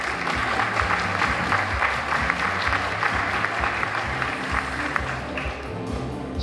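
An audience applauds a teacher at a Teacher of the Year celebration in Wicomico, with steady, dense clapping throughout at an even level.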